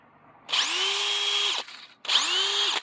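A Mac 20-volt cordless 1/2-inch drill rated at 2,000 RPM whines up to speed in two close bursts of about a second each, with a short pause between them and a rising motor pitch at each start.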